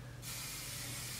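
Hairspray from an aerosol can is sprayed onto hair during a formal hairstyling session, a steady close hiss that starts suddenly and holds unbroken.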